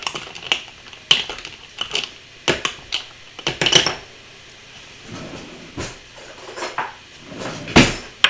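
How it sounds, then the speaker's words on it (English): Utensils clink and scrape against dishes in quick, uneven knocks and rattles, close by and fairly loud, with short quiet gaps between strikes while drinks are stirred. "And stir, stir, stir."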